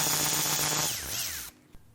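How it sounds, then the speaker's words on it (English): A power tool spins out a bolt joining the two block halves of a Subaru EJ20 turbo engine during teardown, a loud whirring run that slows and winds down after about a second, followed by a faint clink. "I'm going to remove this bolt that holds the two block halves together."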